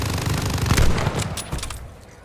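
Sustained minigun fire in Call of Duty Vanguard zombies mode, a loud dense roar of rapid shots for about two seconds before trailing off, with no talking.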